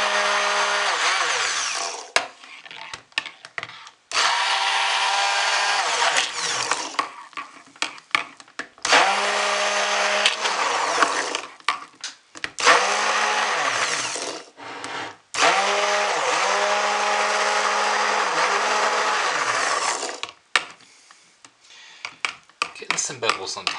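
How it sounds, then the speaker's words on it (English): A stick blender whirs in repeated bursts of several seconds each, with short pauses between, loud and close, mixing coconut oil soap infused with annatto seed. "So get the stick blender in, burp it a little bit."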